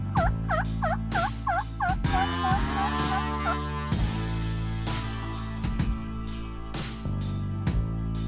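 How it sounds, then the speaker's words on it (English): Wild turkeys gobble repeatedly during a morning turkey hunt, several loud rattling calls in quick succession over a steady low background hum, with no talking. "We hear turkeys gobbling."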